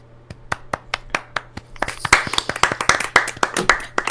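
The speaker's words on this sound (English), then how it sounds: "I will admit that was painful to clap for." Several people clap for a musical intro: sparse, uneven claps at first that thicken into a brief, scattered round of applause, close and fairly loud, with no talking.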